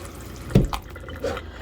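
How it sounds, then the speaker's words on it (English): Rinse water drains out of a jar of sprouting seeds into a bowl: a short splash, then a few faint drips and trickles in a quiet room. "Swish it around, drain the water out, rinse the bowl as well"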